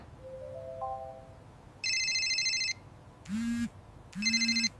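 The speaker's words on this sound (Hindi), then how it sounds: "उनका फोन बजना शुरू हुआ" An electronic phone ringtone plays in short repeated bursts of bright tones, clear and fairly close, with no talking.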